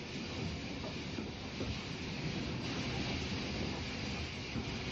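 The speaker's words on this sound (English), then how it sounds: "The train from Headcorn arrives back at Biddenden" Southern Railway train from Headcorn running into Biddenden station on the Headcorn extension in the 1950s or 60s, a continuous rumbling, hissing roar of wheels and carriages close by.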